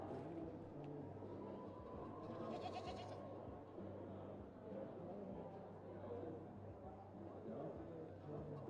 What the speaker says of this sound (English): I just heard a goat.